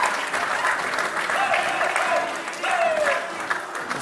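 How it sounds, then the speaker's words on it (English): Spectators cheer and clap at a men's 10m air pistol world cup shooting final in Bhopal, India, a steady wash of applause with a commentator talking over it throughout. "The spectators are cheering on, but Singh is cool as a cucumber"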